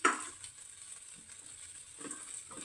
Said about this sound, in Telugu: కొబ్బరి పొడి కూడా వేయాలండి ఒకసారి కలిసే విధంగా కలుపుకున్నాము